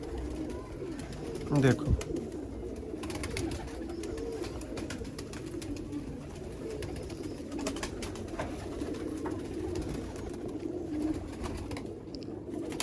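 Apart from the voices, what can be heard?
teddy pigeons cooing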